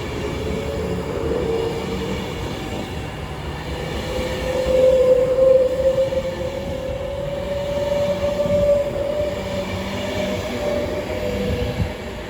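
A London Overground Class 710 electric unit pulls into Watford Junction on the West Coast Main Line, a steady rumble of wheels on rail with a rising squeal and hum as it draws in close.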